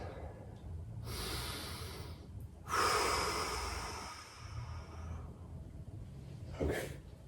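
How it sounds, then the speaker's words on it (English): Deep, audible breaths during a yoga rite exercise: two long broadband inhales or exhales close to the mic, the second louder and longer, followed by a brief sharper breath near the end, with no talking. "Put your legs down, take a deep breath."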